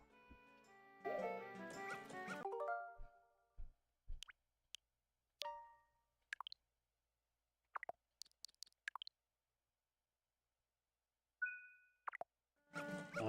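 A dog in The Legend of Zelda: Majora's Mask yips and whimpers in short, sparse bursts separated by silence, following a louder stretch of game music and sound effects.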